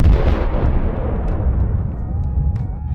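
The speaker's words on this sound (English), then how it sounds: "Brain matter explosion!" A loud explosion sound effect opens with a heavy booming burst, then rumbles and decays over several seconds into a low, fading roar.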